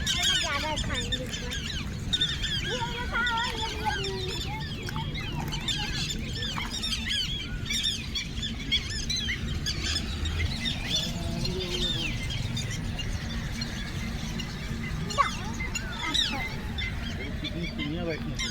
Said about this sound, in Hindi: कितनी चिड़ियाँ बैठी हैं।